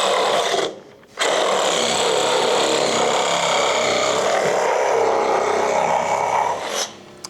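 A Ryobi reciprocating saw cuts through LVL timber on a jobsite, a steady buzzing, rasping drone after a brief pause near the start, running evenly for several seconds before stopping.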